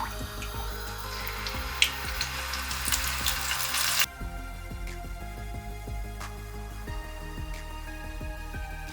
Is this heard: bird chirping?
no